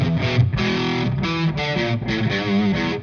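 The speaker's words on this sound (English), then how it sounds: "I really like the fat distortion." Electric guitar played through a fuzz pedal in its fat distortion mode, a thick, saturated tone sounding alone in a run of loud sustained chords and notes with short breaks between phrases.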